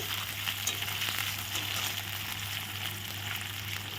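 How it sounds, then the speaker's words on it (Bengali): Paneer sizzles steadily in hot oil in a home kitchen pan, a continuous close frying hiss with faint crackles and no talking. "পনিরটা এখন ভেজে নিচ্ছি"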